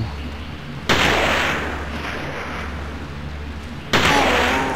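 Enemy gunfire in the horror game Forbidden Siren: two sudden loud bangs about three seconds apart, each ringing out over a steady low in-game rumble, with no talking.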